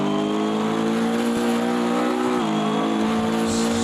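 A GT3 race car's tyres squeal steadily in Automobilista 2, a high sustained whine riding over a loud, droning engine. The tone holds steady with small pitch wavers and no speech.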